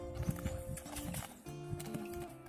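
Horse hooves clop in an uneven trotting rhythm, moderately near, with scattered thuds and a faint background hum.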